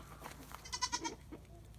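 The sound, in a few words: goats bleating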